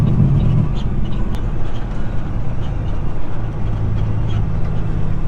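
A vehicle rolls into the gravel lot of a large ADM grain elevator in Silver Grove, Kentucky, giving a steady loud engine and road rumble with no talking.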